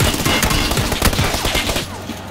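Rapid gunfire in the battle royale video game PUBG, a dense fusillade of overlapping automatic bursts and sharp single shots, loud and close, going on steadily before thinning out near the end.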